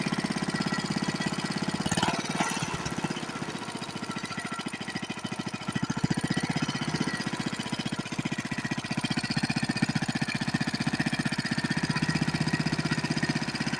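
A worn Briggs and Stratton 6S small engine running with no muffler, blowing oil from the exhaust, chugging steadily and loudly up close with a rough, rapid firing rhythm throughout.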